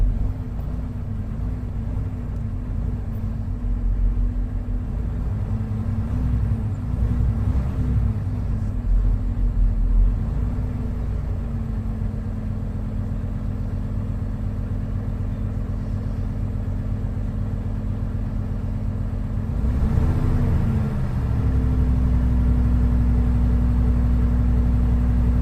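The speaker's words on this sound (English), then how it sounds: "So I'm going to let my truck build the proper air pressure." A truck engine idles steadily for the whole stretch, building air brake pressure with a deep, even rumble and whir that shifts briefly near the end before settling into a slightly lower, steady drone.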